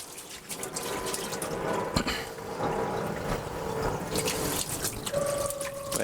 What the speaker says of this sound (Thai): เดี๋ยวผมจะเอาน้ำมาเทใส่นี้นะครับ